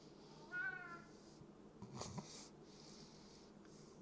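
A single short cat meow near the start, followed by a soft rustle and a brief scuffing noise in a quiet room.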